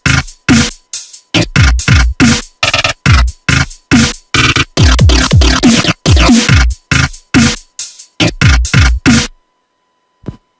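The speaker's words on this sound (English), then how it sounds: "use Fruity Granulizer and SliceX to make a nice glitchy dubstep bass that sounds like this" A glitchy dubstep bass line built in FL Studio with Fruity Granulizer and SliceX plays loud, chopped stuttering bursts over a basic beat, then cuts off near the end, leaving a faint tail.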